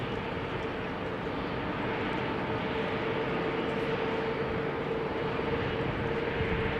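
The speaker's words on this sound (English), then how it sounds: "Cathay Pacific to Hong Kong, A350-1000 is coming this way, taking off from 18 left shortly." A Cathay Pacific Airbus A350-1000 bound for Hong Kong takes off from runway 18 Left at Amsterdam Schiphol Airport, its jet engines a loud, steady, broadband roar with a faint tonal whine throughout.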